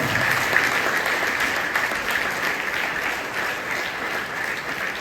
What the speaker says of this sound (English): With all your good round of applause, let's extend a very warm welcome to the IAS officer.